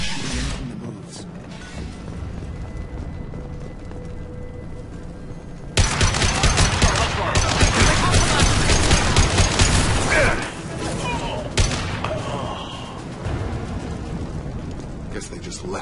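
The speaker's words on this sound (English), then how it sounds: "Blue Suns and Mortars shooting anything that moves." Bursts of gunfire and mortar blasts crash through a Mass Effect 2 battle against Blue Suns mercenaries, quieter at first, then a dense loud fusillade of rapid shots and booms that eases off and flares again.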